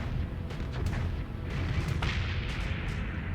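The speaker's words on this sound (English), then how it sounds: "that's the torpedo." A torpedo explodes in a video game, a heavy rumbling boom followed by a run of deep blasts and crackling bursts that stays loud and dense throughout.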